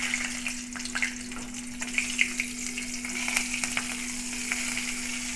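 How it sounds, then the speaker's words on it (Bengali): Black cumin and green chillies sizzle in hot oil in a pan, a steady close crackle with sharper pops scattered throughout and a low steady hum beneath, no speech. "এবার কালো জিরে ফোড়ন দিয়ে দেবো আর কাঁচা লঙ্কা"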